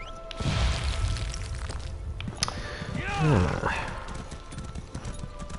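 Horse hooves clopping along in Elder Scrolls Online, a steady plodding gait under game sounds and a voice talking over it.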